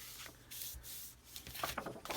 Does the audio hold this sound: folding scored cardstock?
yes